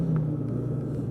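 Polaris Pro S 800 snowmobile engine idling steadily while warmed up, a low continuous rumble with a droning hum, close and fairly loud, no talk over it.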